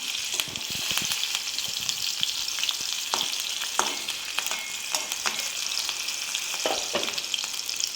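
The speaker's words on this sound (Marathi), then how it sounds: "मिरच्या आधी टाकून घेऊया आपण एक अर्धा मिनिट मिरच्या छान तेला परतून घ्यायचा" Green chillies sauté in hot oil in a pan, a bright continuous crackle and hiss, with scattered spatula taps and stirring scrapes breaking through the steady sizzle.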